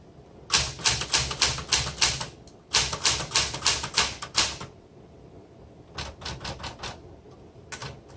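Keys striking on a 1974 Smith Corona Classic 12 manual typewriter, fast bursts of sharp clacks in two runs, a pause, then a lighter, sparser run of strokes, close and loud with no talking.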